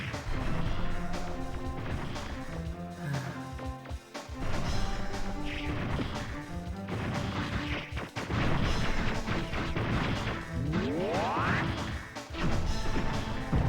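Missiles in the Mega Man Legends video game burst in repeated loud crashing explosions, dense and chaotic, layered over game music and effects with a rising whoosh near the end.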